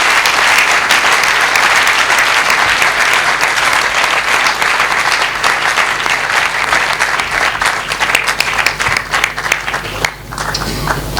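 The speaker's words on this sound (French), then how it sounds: "Je veux qu'on acclame pour passer au Baruch pendant qu'il a." A church congregation gives sustained, loud applause, a dense wash of clapping from many hands that continues for over ten seconds with a few faint voices mixed in.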